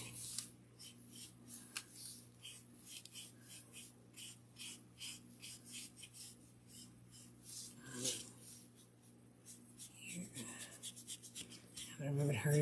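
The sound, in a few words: rubbing paint off a wooden bat insert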